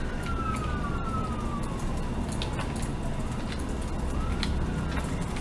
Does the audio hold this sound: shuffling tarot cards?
no